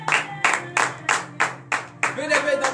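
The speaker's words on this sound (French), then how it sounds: "Donnez de vive acclamation à l'Éternel." A congregation at a morning prayer service claps in a brisk, regular rhythm, roughly three claps a second, with voices raising acclamation underneath and joining in toward the end.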